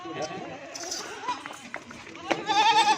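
A milking goat kept with her kids bleats in several wavering calls, the loudest near the end, while someone talks over them nearby with general outdoor bustle.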